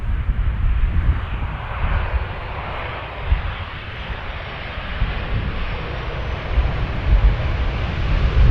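KLM airliner arriving from Paris at Amsterdam Schiphol, a continuous heavy jet engine roar with deep rumble and broad rushing noise, loud and sustained throughout without talk.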